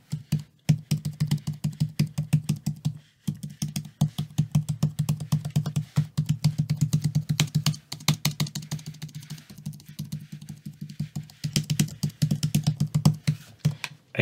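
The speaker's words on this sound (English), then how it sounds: "And let's just try and type on this keyboard." Rapid, continuous typing on a compact Galaxy Tab S8 keyboard cover, soft clicky keystrokes in fast bursts with brief pauses, close up and without talk.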